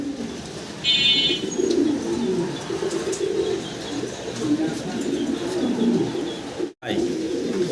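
Pigeons coo in a low steady murmur from a loft of colourful breeding pigeons offered for sale, with chirps and a brief high trill near the start, while someone talks throughout.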